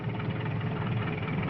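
A tractor engine runs at a steady, low, rumbling idle on a cattle ranch, a continuous close mechanical drone with no pauses.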